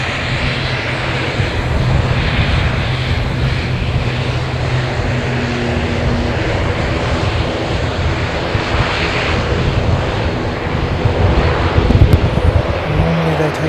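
ATR turboprop airliner on the runway, a loud continuous propeller and engine drone that swells slightly near the end, with no talking.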